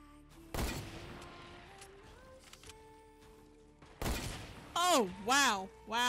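Gunfire in Fortnite's wild west mode: a sharp, loud shot early on and another burst later, followed by rising and falling tonal effects, with game sounds and speech around them.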